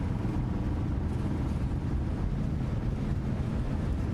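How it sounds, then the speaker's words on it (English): Steady rushing wind roar in a PMDG 737-800 flight simulator during takeoff, a broad, even low-frequency wash held at constant level throughout. "Whoa, there's that wind coming in."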